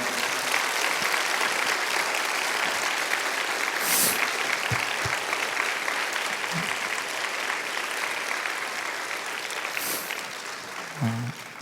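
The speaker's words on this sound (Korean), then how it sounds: "우리 큰 박수 드리면 좋겠습니다." A church congregation gathered for a North Korea-themed service gives sustained, even applause for a departing guest, a dense wash of clapping lasting over ten seconds with faint voices at the close.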